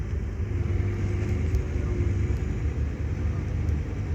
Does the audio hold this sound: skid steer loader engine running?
yes